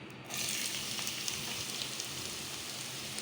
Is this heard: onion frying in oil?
yes